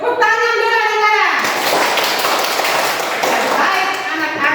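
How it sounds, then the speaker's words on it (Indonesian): Schoolchildren in a classroom clapping their hands together, a loud burst of many small hands that starts after a voice and carries on as a busy, continuous patter to the end. "Tepuk tangan dulu anak-anak."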